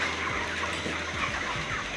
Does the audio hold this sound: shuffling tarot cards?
no